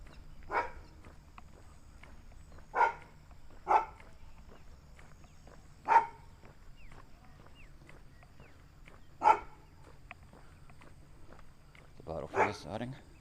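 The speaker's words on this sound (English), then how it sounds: "Let you hear the ambience of a suburban dog" Suburban dog on the back streets of East Innisfail, barking in sharp, widely spaced single woofs from moderate distance, about six barks across the stretch over quiet street ambience.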